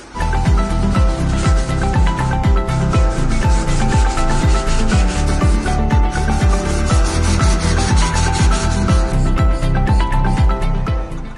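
An automatic shape cutting machine slicing 300 GSM two-side laminated sheet, a loud, rapid, regular series of scraping strokes repeating steadily throughout, with no talking.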